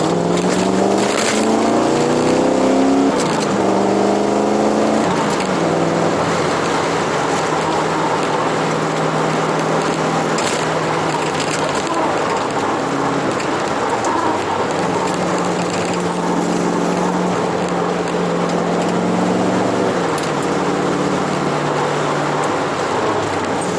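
Chevrolet Corvette C4 on a road test after new bushings and U-joints, engine note climbing loudly through gears with rising pitch sweeps, sustained roar and road noise throughout.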